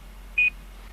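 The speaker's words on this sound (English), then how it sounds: "couple minutes you get a few beeps, you'll know that the information is properly stored" A GPS unit gives a single short, clear electronic beep against a quiet background, confirming that data is stored.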